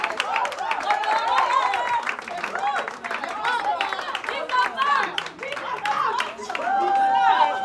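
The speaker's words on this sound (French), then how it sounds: "Applaudissons, s'il vous plaît." An audience at a training certificate ceremony claps in scattered bursts, mixed with lively crowd chatter and people talking over the applause.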